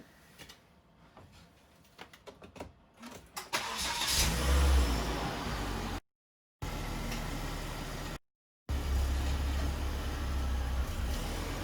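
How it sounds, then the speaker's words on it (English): A Volvo C30 AWD fitted with a custom Haldex all-wheel-drive setup, sitting on stands, starts up: a few clicks and cranking noises, then the engine catches and settles into a loud, steady idle with brief dropouts. "we're just going to start the car up and see how we go"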